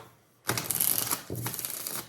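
A deck of tarot cards is shuffled close up in two crisp, rapid riffling bursts separated by a short pause, with no talking.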